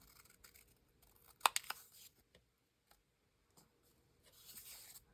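Paper labels get trimmed in a quiet craft setting, with a few faint snips and a brief sharper cutting burst, then light rustling of paper near the end.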